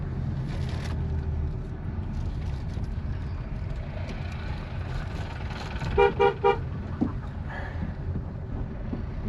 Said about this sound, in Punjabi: ਹਾਰਨ ਦਿੱਤਾ